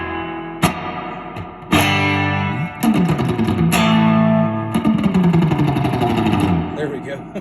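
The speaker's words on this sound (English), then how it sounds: "it's a very convincing digital reverb" Fender-style electric guitar chords through a Milkman The Amp 50-watt amplifier, strummed in bursts, each ringing out with a lingering, washy digital reverb tail, loud and close.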